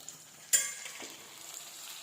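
Onions and tomatoes frying in a pan of masala gravy: a steady high sizzle with a sharp burst as ingredients hit the oil, then a spoon stirring, close and alone.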